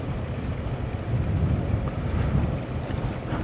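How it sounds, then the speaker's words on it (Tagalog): Strong wind roars steadily against the microphone on a dark mountain road on the Sagada Loop, a dense low rumble with no pauses and no voices. "Malakas po yung hangin."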